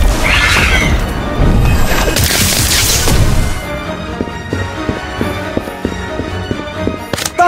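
A Thunderbird spell attack in the Harry Potter: Magic Awaken video game, loud crashing impacts and a bright burst for about three seconds, then quieter rhythmic knocking game effects with a sharp hit near the end.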